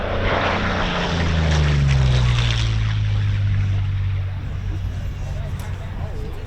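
A World War II-era propeller aircraft makes a low pass at about 300 knots at an airshow, a loud droning roar that swells and then falls in pitch as it goes by, with people talking.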